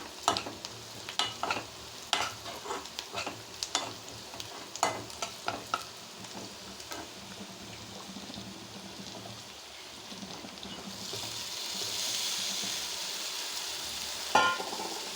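Green gram tossed with turmeric in a hot pan, sharp irregular stirring clicks and taps over a low sizzle, the frying hiss swelling louder and more even in the later part.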